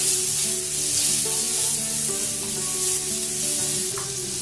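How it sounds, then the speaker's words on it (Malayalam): One tablespoon of ginger garlic paste sizzles and spits steadily in hot vegetable oil in a preheated pan, a loud, close, continuous frying hiss with light stirring and no talking. "അതിലോട്ട് 1 table spoon ginger garlic paste ഇടുക."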